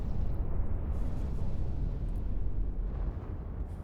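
Rage missile explosions in the space game EVE Online, fired from a Cerberus: a continuous, dense, low rumbling roar of blasts that holds steady and loud throughout with no clear gaps.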